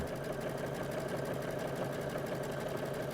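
A sewing machine stitches through a quilt at the corner of satin stitching, a steady, fast mechanical whir with an even rapid ticking that runs unbroken and moderately loud.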